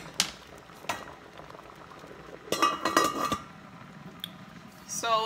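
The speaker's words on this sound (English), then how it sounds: "So it is currently boiling at medium heat." A pot of meatless stew peas boils on medium heat, with a low bubbling under scattered clinks and scrapes of a spoon and cookware that come in short bursts, and no talk.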